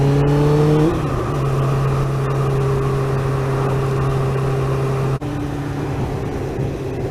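1998 Suzuki GSXR 600 motorcycle ridden on twisty roads, its engine a steady loud drone under heavy wind rush, with a gear change shifting the pitch near the start and another brief dip later.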